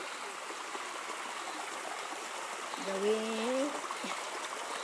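Creek water flows steadily over stones in a wooded stream, a soft continuous trickle and rush heard close by under brief talking.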